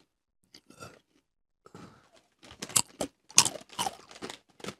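Crunchy, unspiced tortilla-style snack chips being chewed up close, with irregular crisp crunches that start sparse and faint, then grow louder and denser in the second half, with no talking.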